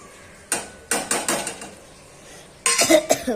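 Maggi noodles with masala stirred in a pan, a spoon scraping and clinking against the metal in several quick bursts with a short pause between, close and fairly loud with no voices.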